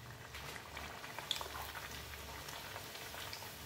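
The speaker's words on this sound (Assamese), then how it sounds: "তেলখিনি গৰম হোৱাত মই বেলি লোৱা পুৰি কেইখন ভাজিবলৈ লাগিলোঁ।" Raw banana puris fry in hot refined oil in a wok over a medium-high gas flame, producing a faint, steady bubbling sizzle with occasional soft pops.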